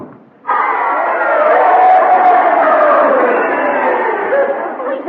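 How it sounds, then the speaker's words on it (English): Crowd cheering and chattering at a staged boxing match in a radio play, a dense, steady roar that swells in after a brief quiet start and holds loud throughout. "You heard them cheering, didn't you?"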